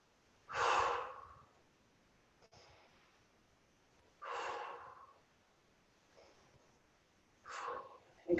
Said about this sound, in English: Let's go 3 big breaths here.